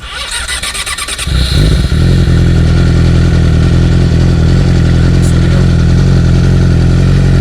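A Yamaha R6 sport motorcycle engine starts up and then idles steadily, loud and close, with a deep continuous rumble and no talking over it.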